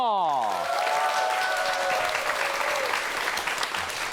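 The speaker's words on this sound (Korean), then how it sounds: "오늘의 강연자 두 분을 박수로 환영해 주십시오" Studio audience applause welcoming two guest lecturers onto a Korean science talk show, a steady wash of clapping that follows a brief rising musical sting at the start.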